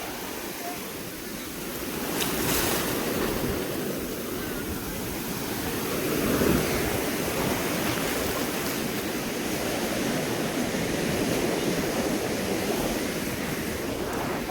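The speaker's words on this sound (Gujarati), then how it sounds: "કેવડા કેવડા મોજા" Big sea waves crash and churn on Somnath beach in Gujarat, a loud, continuous broadband roar of surf with swelling surges and no clear voices.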